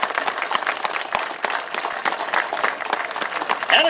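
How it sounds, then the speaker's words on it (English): A round of applause from the audience at a Second Amendment rally, broad steady clapping throughout with scattered louder claps and no one talking over it. "if you wouldn't mind, a big round of applause for Paul Vallone and the organizers of this"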